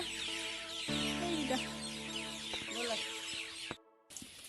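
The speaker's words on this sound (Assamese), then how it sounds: "গধূলি হৈছে, হাঁহ কুকুৰা ছাগলীবোৰ সোমাব লৈছে" Chickens and ducks return home at dusk to a rural homestead with ponds. Dense, loud clucking and calling continues nearly without a break, cuts out briefly near the end, then resumes.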